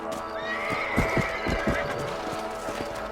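A horse whinnies in a long, rising neigh in Red Dead Redemption while hooves clip-clop steadily underneath, with a soft ambient bed throughout.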